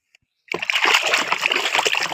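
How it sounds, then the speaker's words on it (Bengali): Water splashes and sloshes continuously as a toy giraffe is washed, a steady close-up splashing that starts abruptly after a brief silence. "তো চলো আমরা ধুয়ে দেখি।"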